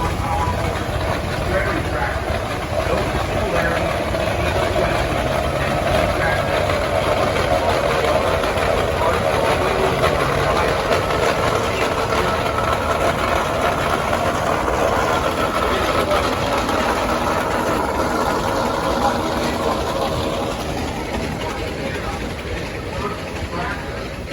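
A 30-60 tractor, an early farm machine shown at a steam and threshing show in Sycamore, Illinois, runs with a steady, loud low engine rumble throughout, with outdoor crowd noise mixed in.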